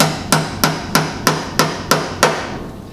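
Seven sharp, evenly spaced hammer taps driving a fastener into wood without pre-drilling while building an open mesh beehive floor, each ringing briefly before the next, with quiet in between.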